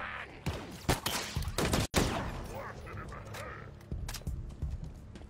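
Heavy gunfire from a Halo firefight, with several loud, sharp bursts in the first two seconds and scattered shots trailing off later, set over game ambience and faint voices.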